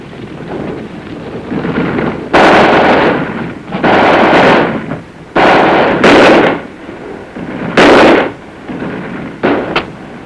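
Light machine gun fire in a military training film on a rifle platoon attacking a built-up area, loud repeated bursts of gunfire that start and stop several times, with a constant rumbling background between bursts.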